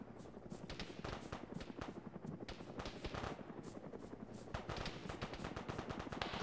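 Gunfire in a military video game, rapid bursts of shots rattling over a steady rotor-like drone, moderately distant and continuous.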